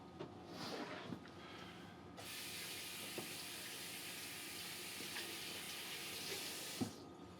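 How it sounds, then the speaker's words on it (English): Water runs from a tap as a hand is rinsed in a kitchen during ceviche preparation. A steady, fairly quiet hiss of flowing water is framed by soft knocks and splashes, and the flow starts and stops abruptly. "Rinse my hand."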